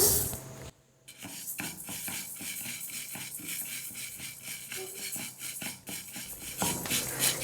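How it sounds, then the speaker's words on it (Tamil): Sago pearls being dry-roasted in a kadai give a steady scraping and rattling, with quick regular strokes of a ladle against the metal pan and the grains shifting, close and alone after a brief pause. "திரும்ப இதே கடாயில் எடுத்துருக்கிற ஜவ்வரிசியை போட்டு லைட்டாக வறுத்துக்கிறேன்."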